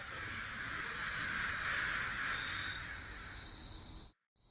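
Continuous dense crow cawing, a loud flock of crows (blood crows in a zombie apocalypse story) calling steadily for about four seconds before cutting off abruptly.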